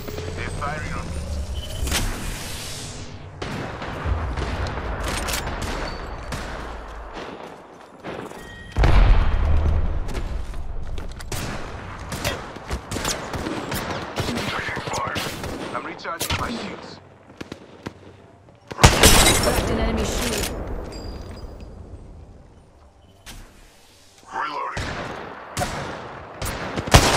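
Bursts of rapid gunfire and sharp shots crackle through an Apex Legends arena fight, with near, loud volleys, brief lulls and heavy impacts over a long stretch, alongside occasional game voice lines.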